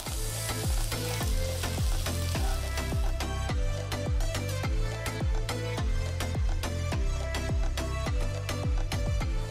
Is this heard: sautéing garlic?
yes